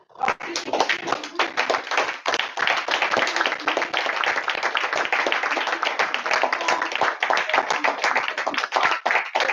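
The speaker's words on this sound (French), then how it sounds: "J'aimerais que vous puissiez l'applaudir." An audience at a Toastmasters club session in a Côte d'Ivoire trade centre applauds steadily for nearly ten seconds, with dense, sustained clapping close by.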